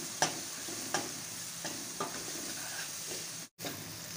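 Chaat masala frying with tomatoes in a pan for achari eggplant gives a soft, continuous sizzle, with a few light spoon taps against the pan as it is stirred.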